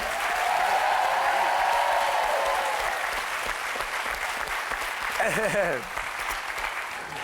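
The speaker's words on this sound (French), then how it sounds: "Et on applaudit encore très fort les artistes de la rue." TV game show studio audience applauding street performers, a dense, loud wash of clapping that fills the whole stretch, with a voice briefly cutting through near the end.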